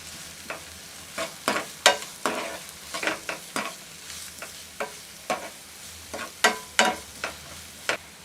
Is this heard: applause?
no